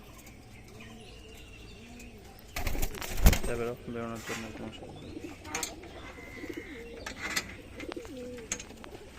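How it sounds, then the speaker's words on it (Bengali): Pet pigeons in a home loft coo softly and keep on, with a brief burst of wing flapping near the start, while a person talks over them throughout. "সব পায়রা ওয়েটিং করছে"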